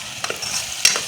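Onions and okra sautéing together in a pan, a low continuous sizzle broken by a couple of sharp stirring clinks, heard up close with no talking.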